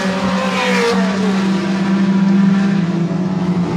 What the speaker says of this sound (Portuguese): E não para de sair carro, e entra carro, e sai carro, e acelera carro.